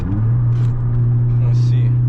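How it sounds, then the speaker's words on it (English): A Honda Civic Si turbo engine drones steadily from inside the car as the driver downshifts into fourth gear, a close, loud, low hum with a brief shift in tone partway through. "Downshift. Fourth gear."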